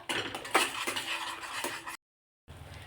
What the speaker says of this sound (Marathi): एक 2 मिनिट आपण हा मसाला यामध्ये परतून घ्यायचा